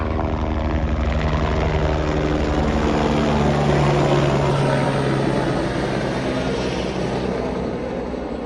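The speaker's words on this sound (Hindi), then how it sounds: "और ये हेलीकॉप्टर आते हुए।" A loud, steady helicopter roar with a rapid rotor chop fills the air near Kedarnath among snowy mountains, holding strong throughout and easing only slightly at the end.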